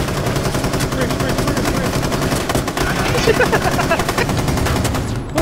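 Two M249 machine guns in Rainbow Six Siege fire in continuous, loud, close bursts of rapid shots that fill the whole stretch, with brief gaps between the strings of fire.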